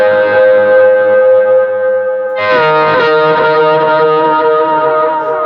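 An electric guitar patch imitating a pedal steel, with far too much delay: sustained, sliding chords smeared by heavy echo and reverb, loud and continuous, with a fresh swell partway through.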